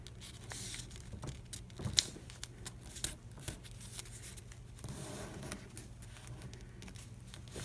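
Scissors snip quietly through paper for a budget journal spread, a few soft, close cuts and crinkles over a faint background hiss.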